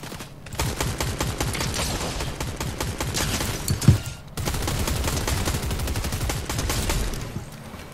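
Rapid automatic gunfire from the video game Unreal hammers on almost without pause, loud and close, broken by one short gap near the middle.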